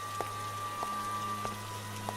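Steady rain falling with a constant hiss and a low hum underneath, faint scattered drops ticking through, no voices over it.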